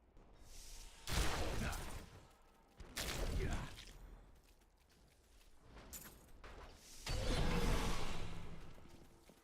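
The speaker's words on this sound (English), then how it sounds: "there's so many explosions everywhere is the problem" Bursts of explosions and combat effects in the Diablo 3 video game, in a Season 39 run with a Necromancer and Wizard. Three or four loud broadband blasts come at intervals, with quieter game noise between them.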